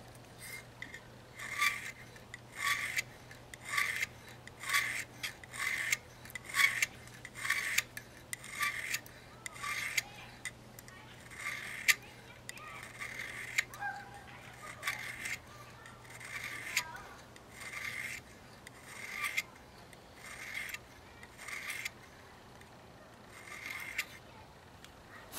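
Hand file rasping across the cutter of a chainsaw chain, a steady series of rhythmic strokes about every half second, close and clear with a low hum underneath and no talking.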